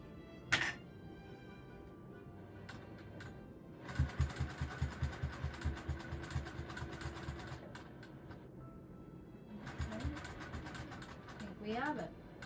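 A sewing machine runs in a quick rhythmic burst during quilting, moderately near, framed by clunks and scraping handling noises before and after, with quiet talk at points.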